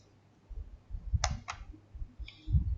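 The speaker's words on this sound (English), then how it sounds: "just type the word pi there" Scattered, quiet clicks and taps of typing on a computer keyboard, a few sharper key strikes standing out over a low background hum.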